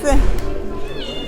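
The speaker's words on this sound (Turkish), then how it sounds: "Biraz isyanda kedimiz." A cat at a cat beauty contest meows insistently up close, a drawn-out plaintive cry while a person talks over it.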